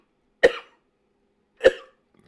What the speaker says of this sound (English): you gotta cough, and you gotta cough hard